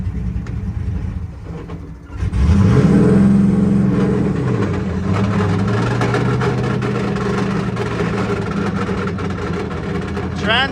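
A car's engine revs hard as its transmission fails, rising into a loud strained drone that dips and settles into a steady labored hum, with a voice faintly present beneath.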